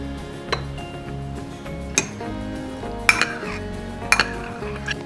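A knife cuts set grass jelly into small pieces on a board, with a few distinct sharp clicks and taps of the blade, close and moderate, over a low steady background.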